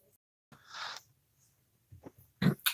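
A single close sneeze bursts out after a quick inhale, followed by a few short breathy sounds and sniffs in a quiet room.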